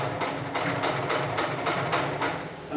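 An industrial sewing machine stitches fall-arrest harness webbing, giving a steady, fast mechanical chatter with rhythmic needle thumps that stays loud and close throughout, with no voices.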